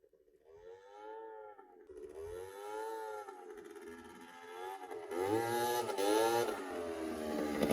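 A small Suzuki scooter engine with a leaky, holed exhaust revs up and down repeatedly, its whining pitch rising and falling, raspy and growing louder with a rattly exhaust edge.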